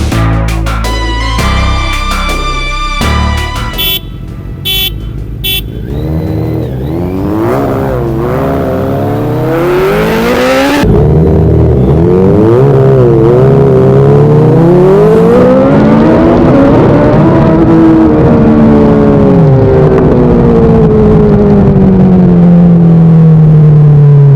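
Kawasaki Z900 and Suzuki Hayabusa motorcycles drag racing, engines revving hard through rising gear-shift sweeps, a close loud roar at first that stretches into a long whining pull as the bikes race off.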